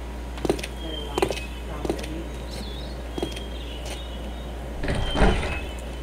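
Storm cellar doors in the video game Gabriel Knight 3, a few light clicks followed by a louder, brief rattling scrape of the doors near the end, fairly close.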